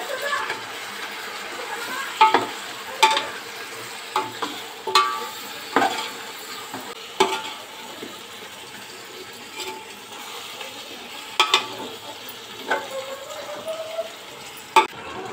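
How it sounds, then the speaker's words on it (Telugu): Chicken biryani being stirred as 300 grams of yogurt go in, giving soft scraping and clinking ladle strokes with faint sizzling underneath, intermittent and fairly close. "300 గ్రాముల పెరుగు ఉంది, వేసుకొని బాగా కలుపుకోవాలి."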